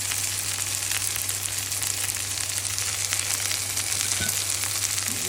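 Sliced okra fries in oil in a pan, giving a loud, close, continuous sizzle with occasional stirring, and no talk.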